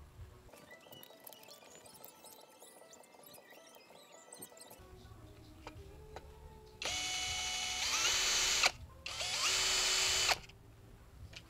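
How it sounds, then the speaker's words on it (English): A power drill bores holes for a limit switch on a DIY 4x8 CNC machine, two loud close bursts of a couple of seconds each, preceded by quieter clicking and handling noise. "So now I'm also going to drill the holes in here."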